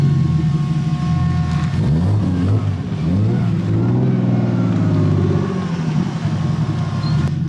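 A car with a freshly built engine rumbles close by, rising and falling in pitch as it revs and rolls along, steady throughout without voices.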